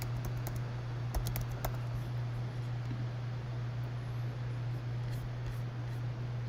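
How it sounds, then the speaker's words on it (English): Computer keyboard typing, sparse clicks in short bursts, mostly early in the clip, faint against a steady electrical hum and background hiss. "I'm going to manually type it in."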